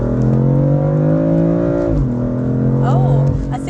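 BMW M4 accelerating hard in third gear, a loud close engine drone climbing steadily in pitch, a brief dip around a shift, then pulling again, heard from inside the cabin.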